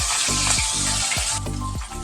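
Pieces of katla fish fry in hot oil with a loud, steady, dense sizzle, broken by a few sharp spatters as the fish shifts in the pan.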